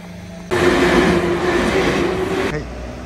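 A train suddenly rushes past close by at a railroad crossing in Higashimurayama, Japan, a loud broadband roar with rattling wheels lasting about two seconds, then quickly fading.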